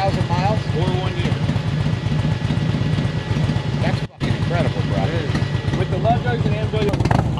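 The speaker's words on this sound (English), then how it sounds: "This bike sits here the whole day, just idling, trying to show how it doesn't overheat." A motorcycle fitted with love jugs, left idling all day at an outdoor bike fest in Ocean City, runs as a steady low engine rumble beneath near, continuous talk.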